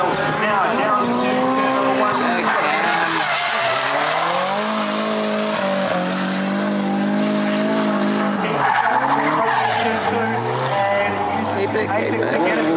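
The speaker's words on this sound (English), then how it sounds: "As car 107 is the next one across the line, Cameron Moyle" A race car speeds across the finish line during a qualifying run. The engine screams loud and close, its pitch bending and sweeping as the car passes, and tire squeal runs under it.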